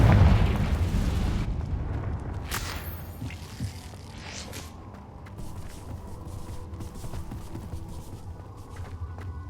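A Confringo explosive spell goes off in Hogwarts Legacy with a loud booming blast at the start, followed by a decaying rumble and scattered smaller pops and crackles.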